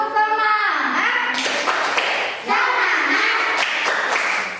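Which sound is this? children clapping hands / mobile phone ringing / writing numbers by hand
children clapping hands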